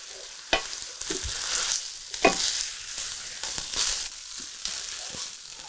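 Fried rice cooks in a pan with a close, steady sizzle, and several sharp spatula strokes scrape and toss it.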